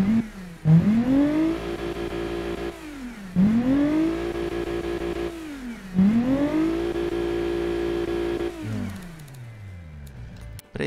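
Simulated car engine in the video game Automation, revving repeatedly on a test track: three rising sweeps through the gears with sharp drops at each shift, loud and close, then easing off near the end.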